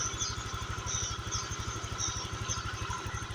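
A Honda Vario 125 scooter engine, freshly reassembled and hard to start, running with a fast, even putter and light mechanical ticking close by.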